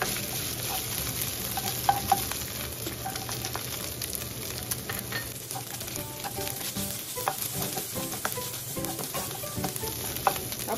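Garlic sautés in oil in a pan for pancit miki with patola, a steady, close, dense sizzle with scattered crackles and a few spoon scrapes throughout, no voices.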